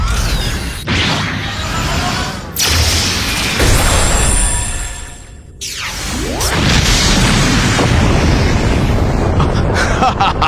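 The Soak Beam fires in Ultraman Cosmos: loud, sustained roaring blasts with sweeping whooshes and rumbling explosions that fill the scene, with a brief drop in the middle before the roar surges back.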